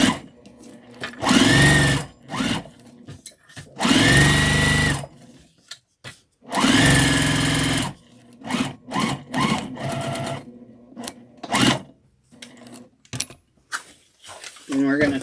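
A sewing machine back stitches the lining of a fabric car trash bag in several bursts of rapid whirring, broken by pauses and handling noises, with a person talking in between.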